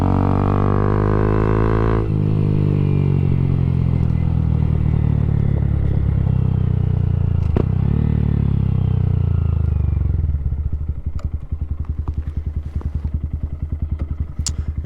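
Honda Grom motorcycle being ridden, its small engine droning loud and close with a rising then falling pitch as it accelerates and shifts, plus wind rush and some clatter.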